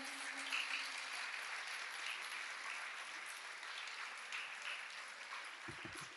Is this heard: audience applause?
yes